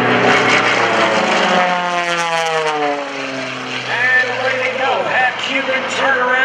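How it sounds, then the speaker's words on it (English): A propeller airplane flying aerobatic rolls and turnarounds at an airshow drones loudly overhead, its engine pitch sweeping up and down as it maneuvers, with a voice commentating over the noise. "Rolling the airplane around."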